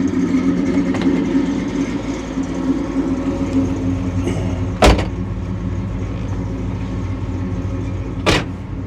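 Customized 1983 Chevy C10 pickup truck on the road, a loud steady engine and road rumble throughout with a couple of sharp clunks or rattles from the cab.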